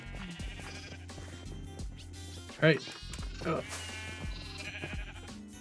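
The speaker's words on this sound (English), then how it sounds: "Those ornery sheep anyway." Minecraft sheep bleat in-game, two or three wavering calls around the middle standing out over a steady game background, with someone talking briefly.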